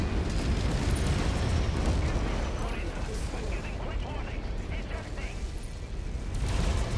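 Missile blast in the MechWarrior 5: Mercenaries mech combat game, a dense continuous rumbling roar of explosions and heavy mechanical clatter that stays loud throughout, with a voice speaking over it.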